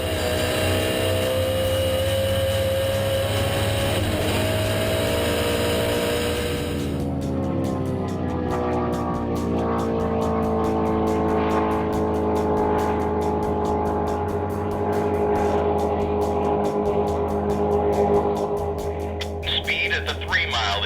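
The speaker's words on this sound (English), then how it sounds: "On course 2, car 588, Kiwis Can Fly, running on a 2:21 record." A land speed racing car, number 588 "Kiwis Can Fly," runs a record attempt on a desert course, its engine a steady loud drone that rises in pitch as it accelerates, heard continuously through the clip.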